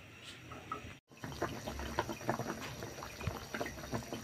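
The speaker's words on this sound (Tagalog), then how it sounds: "kumukulo na yung aking isda" Fish soup with squash bubbles and simmers in a pot, a steady soft rolling burble with a brief dropout near the start.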